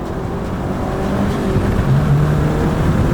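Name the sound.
Mazdaspeed 3 hot hatch accelerating hard after shifting to second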